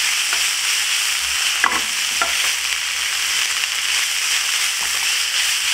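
Onions with shredded smoked herring sizzling and being stirred in a hot pan, a steady loud frying hiss with a few soft scraping strokes of the spoon, no talk.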